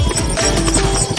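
Horse hooves clip-clop on a bridge roadway, a quick loud run of hoof strikes close by with no talk over them.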